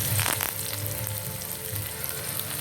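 Mustard seeds spluttering and popping in hot oil for tempering a brinjal pachadi, heard as a dense, continuous sizzle with crackles, a bit busier at the start.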